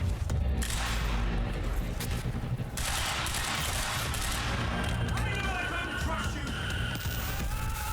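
Enemy gunfire during a boss fight in the video game Quantum Break: loud, continuous dense shooting and rumbling combat noise filling the whole stretch, with a voice talking over it.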